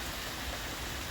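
Steady rain on a summer day in Ottawa, with water running from the downpipes into rain barrels, forms a constant close wash of falling drops and flowing water with no voices.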